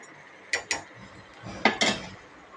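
A utensil stirring chicken gravy masala in a pan, two pairs of quick close metallic scrapes and clacks over a low background hiss, no voices.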